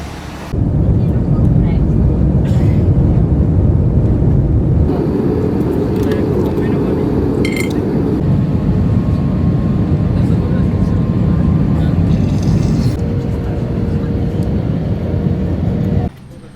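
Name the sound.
aeroplane cabin noise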